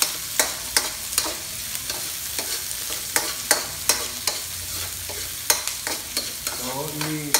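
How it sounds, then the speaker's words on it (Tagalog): Chili leaves and onion being stirred while frying in a pan, with sharp rhythmic spatula scrapes about every half second over a constant close sizzle and no speech. "i-alo-alo lang natin konti"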